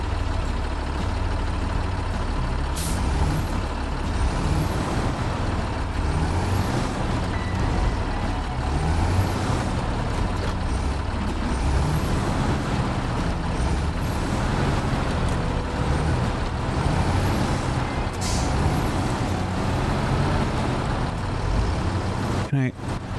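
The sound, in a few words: truck in video game SnowRunner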